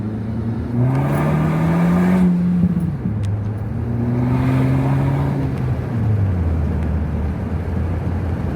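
A 2012 Acura RDX turbo with aftermarket exhaust, cold air intake and a Turbosmart blow-off valve revs up twice from inside the cabin, its engine note climbing steadily through each pull before dropping at the shift, loud and close with a steady drone beneath.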